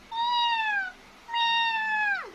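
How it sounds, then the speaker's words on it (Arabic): Two drawn-out cat meows played back through a phone speaker, close and clear, the second sliding downward at its end, with no talk over them. "بنشغل صوت قطة بنجيبه مثلا من على التليفون او من على النت"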